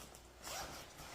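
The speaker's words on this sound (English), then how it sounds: "Then there's an inside zipper right here." A backpack's inside zipper is pulled open in one short, fairly quiet rasping run, heard alone with no voices.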